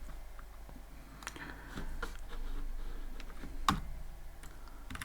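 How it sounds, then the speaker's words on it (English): Keys tapped on a computer keyboard while coding a Python tic-tac-toe game, a scattered run of soft, close clicks with brief pauses and one sharper strike near the end, over quiet room hiss. "So I'm gonna type here"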